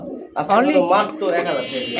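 High flyer pigeons coo at a busy pigeon market, a close throaty warbling coo rising over the crowd, with people talking nearby.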